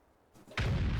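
A tank's main gun fires in World of Tanks, a single heavy boom that breaks in suddenly after a near-silent moment and rumbles on loudly to the end.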